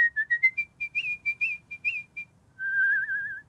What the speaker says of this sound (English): How did you learn how to whistle like that?